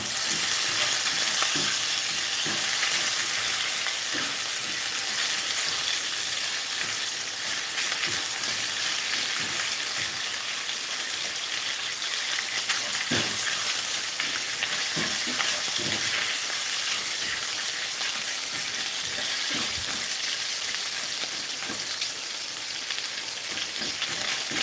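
Bacon fries in a pan with a constant dense sizzle and crackle, punctuated by scraping and clacking as it is stirred and turned, close and steady throughout with no talk.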